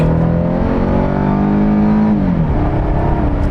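A 2009 Dodge Charger with the 3.5HO V6 accelerates hard, its engine note climbing steadily in pitch, then dipping as the transmission shifts and pulling on. The sound is loud and close, and no one speaks.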